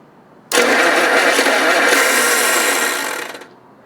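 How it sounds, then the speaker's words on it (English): An engine starter cranks in one continuous, loud, close burst lasting about three seconds. It whirs with a grinding edge, then winds down and cuts off without the engine catching. "I think I just broke the starter yet again"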